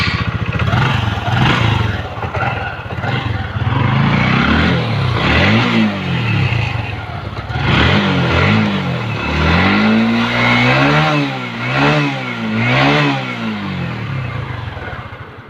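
A fuel-injected motorcycle engine, newly repaired with a resistor fix and running on a new battery, idles loudly up close and revs repeatedly in rising and falling bursts, no voices over it.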